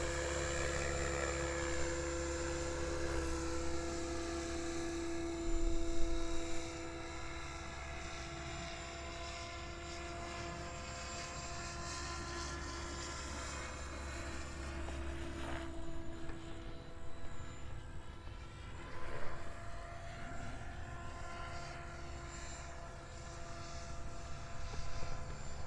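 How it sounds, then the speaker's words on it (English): A helicopter flies over an RC flying field, its steady rotor and engine drone filling the scene continuously, with the pitch and loudness shifting slightly as it moves. "What a beautiful helicopter."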